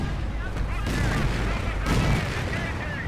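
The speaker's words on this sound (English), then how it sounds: "That would be the AT gun." Anti-tank gun fire in the Company of Heroes strategy game, a few heavy booms with rumbling battle noise, layered under a caster's continuous commentary.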